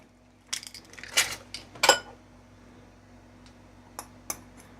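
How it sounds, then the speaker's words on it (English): Six eggs are cracked in a home kitchen, a series of sharp, close taps and cracks clustered early, then a couple of faint clicks after a pause, with no talking. "crack 6 eggs."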